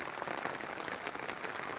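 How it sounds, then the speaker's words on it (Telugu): Rain falling steadily over a home garden, a dense even patter of drops on surfaces with no pauses, close and fairly loud, no voices. "మీ ఊళ్ళో కూడా వర్షం పడుతుందండి"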